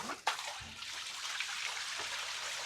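Water gushing from an electric motor pump drawing from a village well in Jaffna, a steady close hiss of flowing water that starts with a sudden splash and runs on evenly.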